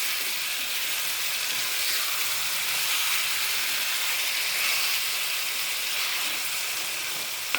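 Gongura chicken boiling in a pot gives a steady, broad hiss and bubbling sizzle that stays even and close for the whole stretch, with no voices.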